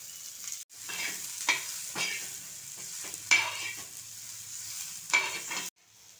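Onion and grated coconut sauté in hot oil in a pan, a soft steady sizzle broken by several sharp scraping stirs of the spatula, ending abruptly.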